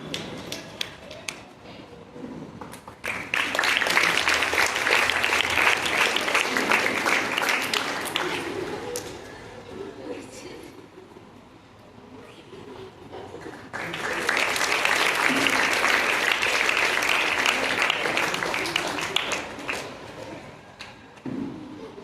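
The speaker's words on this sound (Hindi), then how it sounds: "जोरदार तालियों के साथ मैं चाहूँगा कि इस काम को मुकम्मल करें" Two long bursts of loud, steady clapping from an audience honouring teachers at a school felicitation for SSLC and PUC students in Talikota, with a quieter gap between the bursts.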